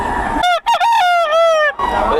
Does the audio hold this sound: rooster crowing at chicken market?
yes